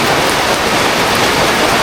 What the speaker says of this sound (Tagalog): lumakas na ng ulan.